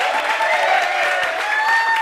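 Students in a classroom lecture clap together in a brief, continuous burst of applause, fairly close and evenly sustained throughout.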